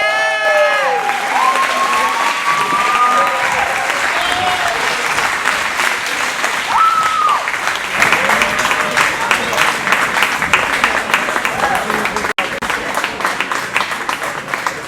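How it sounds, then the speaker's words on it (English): Crowd applause for the performers at a lively stage show: dense, loud, sustained clapping with a few whoops and cheers near the start, continuing steadily to the end. "If the performers could come up so everyone can give y'all another round of applause."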